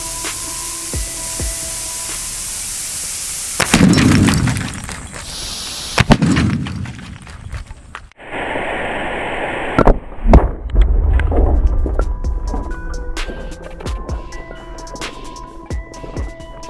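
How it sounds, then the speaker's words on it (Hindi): A 5-litre Mayur plastic water jug filled with liquid nitrogen and sealed bursts under pressure with a loud sudden bang, preceded by hissing spray-like bursts and followed by rattling, scattering debris and clatter. "5 लीटर के मयूर जग में धमाका कैसे हुआ था"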